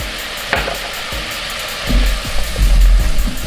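Balsamic, honey and garlic sauce cooks in a pan, a steady sizzle with a few clinks and stirring scrapes, then a deeper bubbling rumble as it heats toward a boil.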